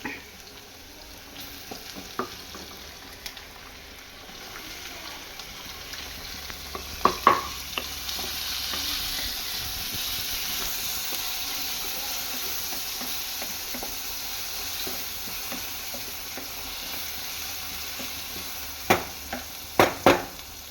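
Red sauce for pasta, with green chilli, bubbles and sizzles softly in a pan, a low steady hiss with a few sharp clicks and scrapes of a spoon stirring it now and then, quiet and without voices.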